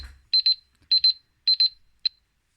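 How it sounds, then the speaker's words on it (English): A home timer alarm beeps in quick electronic bursts, three paired double beeps followed by a lone beep, clear and close in a quiet room. "This was the alarm."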